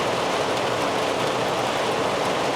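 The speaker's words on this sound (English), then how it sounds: "Is it raining outside? There's thunder." Steady rain falls outside during a thunderstorm, a dense, even hiss of drops that continues without a break, moderately loud, with no distinct thunderclap standing out.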